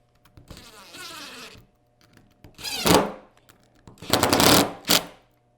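A ratchet or power tool snugs up bolts on a C4 Corvette headlight motor, giving close, buzzing bursts: one longer run, a pause, then several short, sharp spurts with quiet gaps between.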